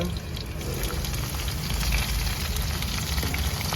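Onions sizzling in hot oil for a Nepali tadka after dried chillies, a steady dense crackle and hiss close up, continuous with no talk.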